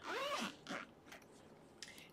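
A zipper on a sewing tote bag is pulled in a few quick rasping strokes. The first is long and loud, followed by shorter, fainter zips, close by and with no talk.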